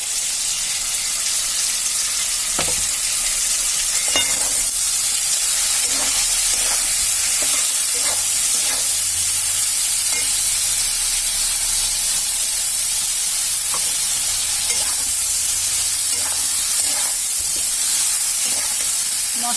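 A ground masala paste of cloves and bay leaf sizzles and fries steadily in hot oil for a Bengali rohu fish curry, with a constant close hiss and occasional stirring clicks and no talk.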